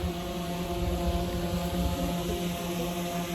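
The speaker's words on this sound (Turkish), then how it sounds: "Birisi drone uçuruyor sanki." A drone hovers above a forest picnic area at Ormanya in Kocaeli, giving off a steady droning whine with a layered tonal hum and some wind noise, constant and moderately loud throughout.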